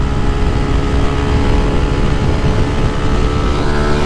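A 150cc motorcycle running without a catalytic converter, its engine droning loud and close in a continuous, steady roar throughout with no pauses or talk.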